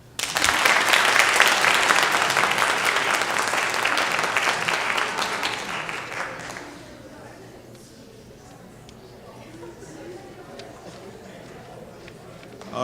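A speech-contest audience claps for the finalists, a loud, full round of applause that holds for about six seconds, then drops off sharply into quiet room murmur with a few scattered sounds.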